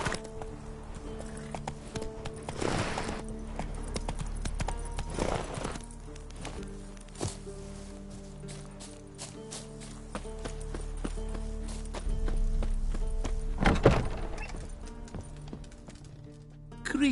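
Roach, a horse in a video game, clip-clops along at a walking pace with steady hoofbeats under ambient game music, joined by a brief whinny or snort.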